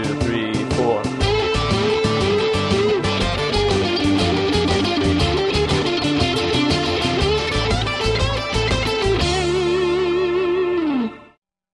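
Electric blues guitar turnaround lick, rattlesnake-like and played with a full backing groove, continuous and driving for about nine seconds before a final held chord rings out and cuts off.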